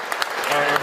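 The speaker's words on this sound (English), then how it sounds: "I'm going to give yourself a round of applause." Applause from an audience at a community event speaking out against child molestation, a short burst of dense clapping with a few sharper claps standing out.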